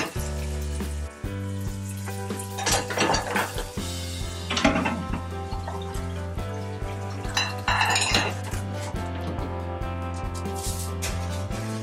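Dishes and hermit crab aquarium items clink and clatter together, with several bright bursts of knocking and rattling over a steady low hum.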